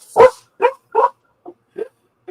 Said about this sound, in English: Control that dog.